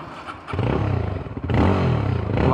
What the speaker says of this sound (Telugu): ఎగ్జాస్ట్ నోట్ అయితే నెక్స్ట్ లెవెల్ అసలు